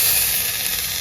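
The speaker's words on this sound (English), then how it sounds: "Hear that sizzling?" Venison tenderloin sizzles on a Vevor charcoal grill smoker, a steady, close, loud hiss of searing meat running unbroken with no talking.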